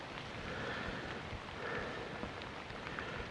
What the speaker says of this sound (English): Looks like it's starting to rain again.